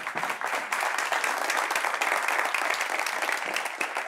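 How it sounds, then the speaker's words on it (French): Audience applause follows a woman being called up on stage, a dense, steady crackle of many hands clapping together for about four seconds, fairly loud and continuous with no talk over it. "On peut l'applaudir, s'il vous plaît"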